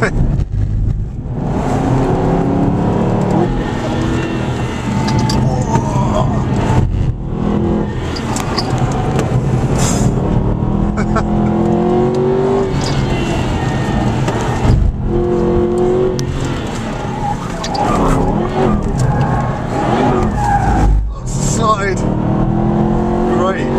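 An Aston Martin race car in the Shift 2 racing game brakes hard around Silverstone, the engine note dropping and surging through downshifts and acceleration over about twenty-four seconds, with someone talking throughout.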